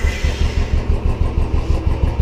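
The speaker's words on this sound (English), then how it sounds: "now let's crank the engine and then see" A Royal Enfield motorcycle engine runs just after cranking following an oil change, a close, loud, rhythmic low thumping at a steady idle pace.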